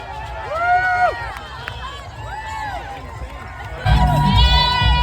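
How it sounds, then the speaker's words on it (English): Spectators along the New York City Marathon route shout and cheer in a steady crowd roar, with a whistle-like tone and voices rising over it and a louder surge near the end. "The shouting and cheering was so much."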